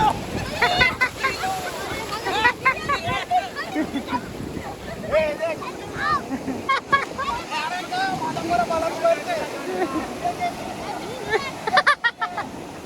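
Strong wind buffets the microphone as sea waves surge and wash close by on the Ganpatipule coast, with voices talking over the rough, constant roar.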